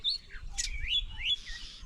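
Sparrows chirping on a hillside beside a village house in Sindhudurg, giving a few bright, quick tweets and short calls over a low background rumble, fairly close and moderately loud.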